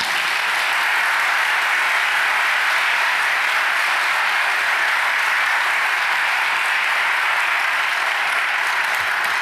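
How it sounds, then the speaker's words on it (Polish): Loud, dense applause fills a hall at a master's graduation ceremony, a steady continuous roar of many hands clapping without letup and no voices standing out. "należą się teraz bardzo duże brawa."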